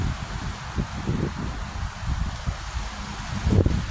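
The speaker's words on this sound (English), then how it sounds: "Oh shoot, this wind." Wind blows outdoors in steady low rumbling gusts buffeting the microphone, with faint rustling throughout and a stronger gust near the end.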